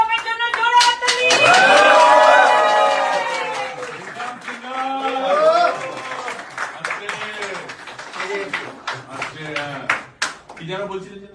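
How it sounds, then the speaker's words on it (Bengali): A group claps for a Bengali teacher at a film launch event, with scattered hand claps running under loud, lively talk and voices throughout. "আমাদের বাংলার শিক্ষকের জন্য জোরে হাততালি"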